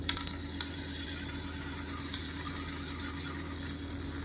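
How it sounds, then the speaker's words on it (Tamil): Mustard seeds, urad dal, dried red chillies and curry leaves sizzle in hot oil for a millet breakfast, a loud, steady close-up crackle that continues without pause. "கடுகு உளுந்து வரமிளகா கருவேப்பிலை போட்டு தாளித்ததை கொட்டிடுறாங்க"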